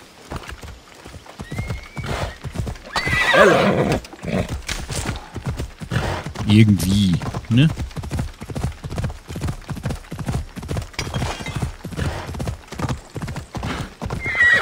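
Horse in Assassin's Creed Odyssey, heard as a steady run of clip-clopping hooves through the whole stretch along with a couple of clear neighs and whinnies. Someone talks over it now and then.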